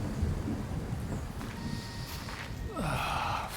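A thunderstorm in the video game Kingdom Come: Deliverance 2 sounds as a low rumble under a steady wash of rain-like noise, with a brief breathy sound and a swell of ambience near the end.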